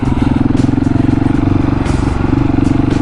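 A KTM 701 Supermoto single-cylinder engine thrums loud and close during wheelie practice, its throttle held steady with a rapid, even pulsing beat throughout.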